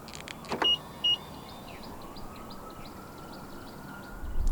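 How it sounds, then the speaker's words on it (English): Electric windows of a 2023 BMW iX xDrive40 whirring as all four move together, with short motor hums and thunks at the start and a steady quiet interior hum after. "you're able to roll down all 4 windows in the car simultaneously"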